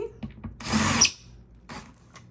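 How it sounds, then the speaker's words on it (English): A power drill runs in one short burst of about half a second while furniture is being assembled indoors, fairly close and loud, with quiet room sounds before and after. "I'm gonna need my drill."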